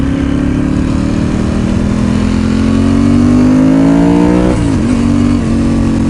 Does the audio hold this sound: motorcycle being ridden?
yes